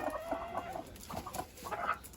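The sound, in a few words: chickens clucking, roosters fighting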